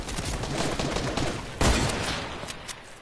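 A video game shootout with dense bursts of rapid automatic gunfire, loud and sustained, with a heavier blast partway through, and almost no talk.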